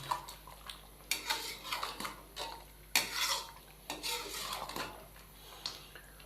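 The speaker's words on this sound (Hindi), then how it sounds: "कुकिंग ऑयल को शामिल करने के बाद हम इसको 3 से 4 मिनट तक अच्छी तरह भुनेंगे।" Beef karahi being stirred and fried in cooking oil in a pan, with repeated scraping and clinking of a utensil against the metal in irregular bursts, close and fairly loud, no one talking.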